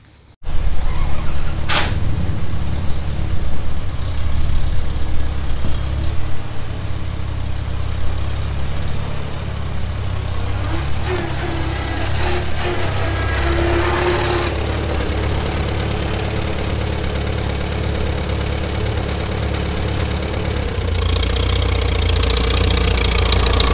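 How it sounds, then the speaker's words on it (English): A Farmall Super A tractor engine idles steadily and close, a low chugging rumble that runs on without pause, briefly shifting tone near the end. "we'll bush hog a little bit with the tractor"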